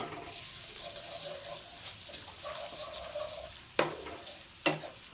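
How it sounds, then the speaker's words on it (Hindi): Chopped green garlic fries in a cup of oil, a soft, low sizzle under occasional stirring clatters and scrapes of a spoon in the pan, heard close. "दो से 3 मिनट के लिए इसको फ्राई करेंगे।"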